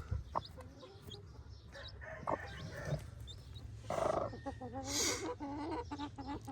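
Hen clucking in a backyard setting among other chickens, with a rooster crowing at times; irregular clucks and squawks at moderate distance over a steady low background.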